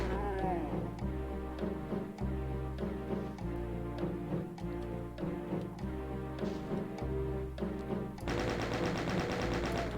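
Chaingunner machine gun fire in the video game Doom Zero, a rapid run of repeated shots layered over loud, steady in-game music, with an extra burst of noisy gunfire near the end.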